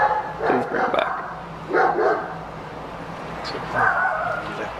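A cadaver dog searching a house and garage barks in three separate bursts of loud, close barks, with quieter room noise between them.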